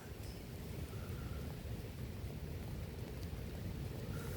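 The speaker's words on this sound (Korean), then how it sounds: "바람도 엄청 불고 눈도 많이 내리기 시작합니다" Strong wind blows steadily during a snowfall at Achasan near Children's Grand Park, a continuous close roaring rush with no talking.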